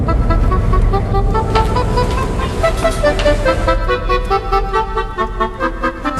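Highway traffic roars steadily and loudly, with cars and buses passing close by and a brief horn toot standing out in the continuous road noise.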